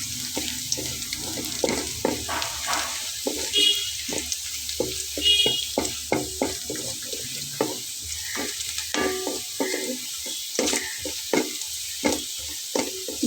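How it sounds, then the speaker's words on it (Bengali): Whole cumin seeds fry in hot oil for a vegetarian dish of raw papaya and masoor dal. A soft sizzle runs under frequent spoon scrapes and clinks as the seeds are stirred quickly in a pan, close and steady. "জিরাটা জাস্ট ভাজা হবে।"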